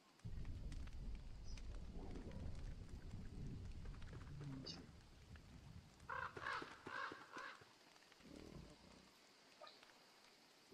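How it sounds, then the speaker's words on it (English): Steady rain hisses across the scene in the video game Don't Starve, a continuous wash of patter with a few brief chimes and game effects over it, ebbing briefly near the end. "It's raining again."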